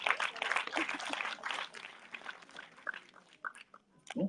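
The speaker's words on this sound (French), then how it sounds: "On l'applaudit bien fort, s'il vous plaît." Guests at a French municipal council ceremony for new baccalaureate graduates applaud as an official is called up; a burst of clapping that thins into scattered claps, with some murmuring and movement in the room.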